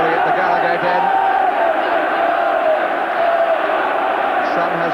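A football crowd at the Gallowgate end of Newcastle United's ground during an FA Cup tie against Manchester United keeps up a steady, loud roar and murmur, broad and unbroken throughout with no distinct cheer.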